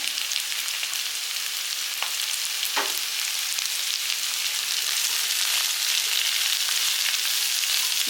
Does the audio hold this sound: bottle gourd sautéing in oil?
yes